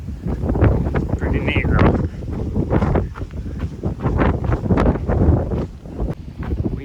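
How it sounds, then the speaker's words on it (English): Strong gusty wind in a canyon buffets the microphone in rough, roaring waves while a person speaks briefly over it. "albeit very windy this evening"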